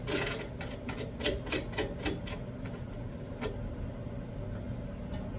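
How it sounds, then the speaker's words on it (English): A nut is tightened onto a trailing arm bushing bolt on a Mazda Miata rear suspension, giving a quick run of close, rapid ratcheting clicks in bursts over a steady low background hum. "So when I tighten this bolt, this nut I mean, tighten this nut down,"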